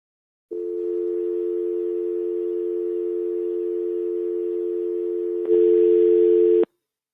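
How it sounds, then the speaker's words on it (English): A steady telephone dial tone on a phone line, held for about five seconds before a brief harsher buzz, then cut off abruptly; clear and alone. "I'm going to get the phone line."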